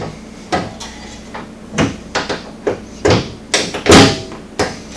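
A Pro Armor full door being test fitted on a 900S produces a series of sharp knocks, clunks and rattles, spaced irregularly and heard up close in a quiet workspace.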